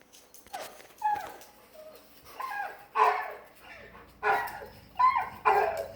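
A male dog barks and whimpers in excited bursts, worked up by a nearby female dog in heat; yips and whines come up close in repeated clusters, loudest toward the end.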